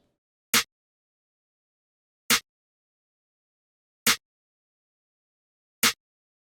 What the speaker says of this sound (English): I'm using the Cash snare from 3K kit.